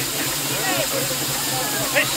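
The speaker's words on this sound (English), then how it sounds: "We want to get rid of that steam." Steam hissing steadily and loudly from a single-cylinder traction engine, a continuous close rush with faint background murmur.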